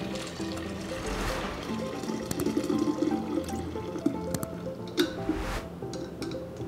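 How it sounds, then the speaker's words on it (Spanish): Coconut rice horchata is strained through a fine strainer, giving a steady wet pouring and trickling with soft squishy splashes and a few small drips, close and continuous. "Ahora, en un colador fino o una manta de cielo, vamos a colar."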